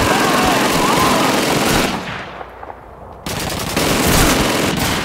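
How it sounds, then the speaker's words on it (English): A German machine gun in Call of Duty 2 fires long, rapid bursts at close range, breaking off briefly into a quieter lull before the loud, continuous chatter of fire resumes. "Sergeant Davis, get on the German machine gun!"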